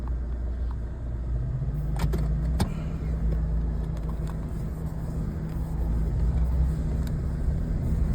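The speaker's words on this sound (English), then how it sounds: "I'll drive up a little closer, see if it goes up." Steady engine rumble and road noise of a car rolling slowly forward, heard from inside the cabin, with a couple of sharp clicks and rattles, no talking.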